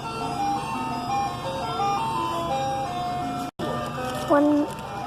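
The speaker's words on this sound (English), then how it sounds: "The hello ice cream truck's coming." An ice cream truck plays its jingle loud and close, a steady chiming tune that runs almost without pause and cuts out for an instant before resuming.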